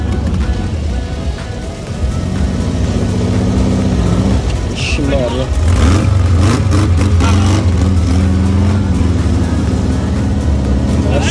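Dune buggy powered by a Volkswagen Beetle engine, revving and rumbling steadily at close range, with people talking over the engine throughout.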